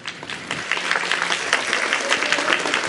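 A hall audience at an evening cultural festival of saz music in Srebrenik breaks into steady, dense clapping that builds slightly and carries on for a few seconds, moderately loud.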